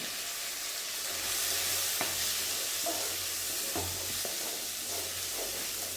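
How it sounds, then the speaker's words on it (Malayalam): Small onions (shallots) frying in a pan with a steady broadband sizzle, punctuated by a few soft utensil scrapes and taps as they are stirred; no voices. "ഞാനപ്പോൾ അതിലേക്ക് ആക്കിയിരിക്കുന്ന കൊച്ചുള്ളി ചേർത്ത് കൊടുക്കുകയാണ് അത് എൻ്റെ കൂട്ടത്തിൽ ഇട്ടൊന്ന് വഴറ്റിയാൽ മതി"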